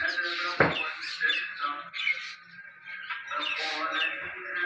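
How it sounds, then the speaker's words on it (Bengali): Birds arriving for scattered food call with busy, overlapping chirps and squawks close by, a sharp clatter near the start, and a voice talking partly beneath the calls. "চলে আসতে লাগছে পাখি।"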